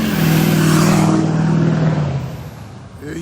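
A car engine revs loudly nearby, holding a strong droning growl before easing off and fading as the vehicle pulls away, alone without talk.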